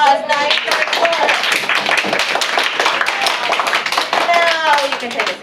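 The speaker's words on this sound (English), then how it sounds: "Round of applause." A small group of third-grade children claps in a classroom after singing a round, brisk uneven clapping close by, with adult voices talking over it.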